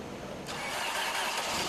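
A car engine cranks over with cold, heavy 10W30 oil, a steady dense churning whir that grows louder and rougher after a brief softer start and runs on continuously, close and alone.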